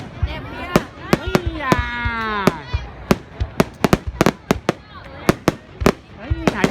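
Lunar New Year fireworks show in Que Vo, Bac Ninh for Giap Thin 2024, with loud booming bursts in quick irregular succession, one whistling rocket rising, and crowd voices chattering between the blasts.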